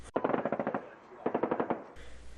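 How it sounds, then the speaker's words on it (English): Two quick bursts of rapid automatic gunfire, each a tight rattle of repeated shots, separated by a brief pause and ending abruptly. "Gunshots."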